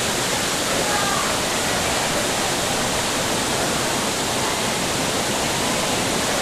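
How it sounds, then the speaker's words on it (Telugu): A waterfall on a hillside pours down with a steady, loud, unbroken roar of rushing water that fills the whole stretch. "చూడండి జలపాతం మొత్తం ఎలా పడుతుంది ఇక్కడ నుంచి"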